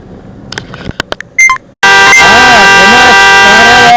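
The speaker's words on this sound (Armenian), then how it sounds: "ես էլ ասում եմ ինչ է սաղ սիգնալ տալի" Traffic on a city street in Yerevan: a few short honks and beeps ring out, then a long, loud blaring car horn holds steady until the end, close by.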